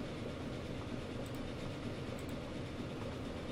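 A train in the video game Transport Fever rolls along with a steady rumbling hiss and faint clickety-clack, even and continuous, at moderate distance with no voices.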